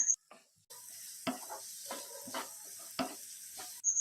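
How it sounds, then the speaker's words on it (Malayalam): Sliced onions with ginger, garlic and a little salt sauté in a pan while being stirred, a quiet sizzle broken by a few distinct scraping strokes after a short silent start. "ഇനി തുടരെ ഇളക്കി നമുക്ക് ഈ സവാള ഒന്ന് വഴറ്റിയെടുക്കാം."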